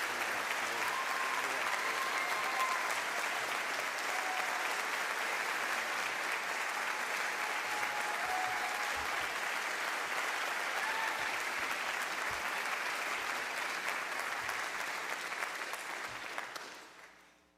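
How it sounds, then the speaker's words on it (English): Audience applause fills an honors convocation hall, a dense, sustained clapping from a large crowd that holds steady before fading out at the end. "let's give another round of applause for all of today's award winners"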